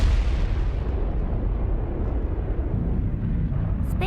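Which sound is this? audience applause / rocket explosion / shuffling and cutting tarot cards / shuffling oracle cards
rocket explosion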